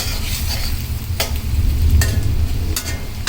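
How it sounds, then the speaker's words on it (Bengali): Onion sizzles steadily in a hot pan while cooking spiced beef bhuna, with a continuous hiss, a low rumbling bubble underneath, and a few sharp clicks of stirring, with no one speaking. "পেঁয়াজটা একটু ভাজা হোক"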